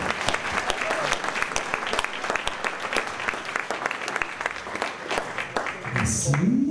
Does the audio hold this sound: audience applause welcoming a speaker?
yes